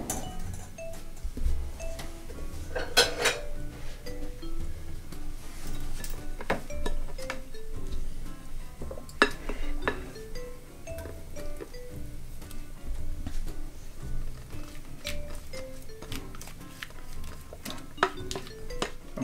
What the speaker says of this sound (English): we're going to put this back into our pan